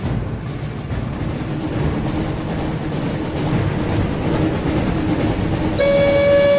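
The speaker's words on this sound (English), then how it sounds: "Looks like we found the train, Ron." A train in the PS1 game Harry Potter and the Chamber of Secrets rumbles past with steady rolling noise, then a loud, sustained horn blast sounds near the end.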